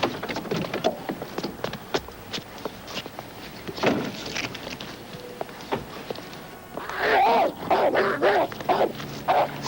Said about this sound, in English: There was never a guard dog here before.